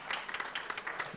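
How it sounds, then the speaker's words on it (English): Brief applause from an audience honoring panelists at a COP29 intergenerational dialogue session, a short burst of scattered clapping at moderate level. "Let's give a big round of applause to our panelists."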